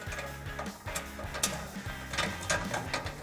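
Ratchet wrench with a 13mm socket tightening exhaust bolts on a Jeep Gladiator JT during a Flowmaster FlowFx exhaust install, giving a run of quick, close mechanical clicks in uneven bursts.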